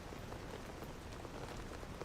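Steady rainfall in the video game STALKER GAMMA, a dense, even patter of drops hitting surfaces that holds constant throughout with no voices.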